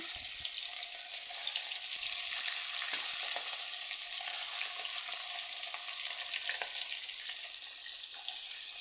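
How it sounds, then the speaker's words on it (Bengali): Tilapia fish pieces frying in hot oil give a steady, dense sizzle that stays loud and close throughout, with a few brief crackles and spatters and no voices. "এবার আমি একটা একটা করে মাছ এ গরম তেলের মধ্যে দিয়ে দিচ্ছি"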